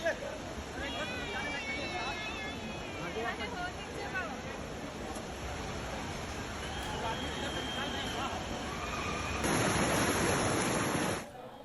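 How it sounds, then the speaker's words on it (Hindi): A waterfall in the hills during monsoon rains pours with a steady broadband rush that runs through the whole stretch, while someone talks over it and the roar grows louder near the end. "एकदम झरना एकदम पूरा गिर रहा है पानी उसके साथ"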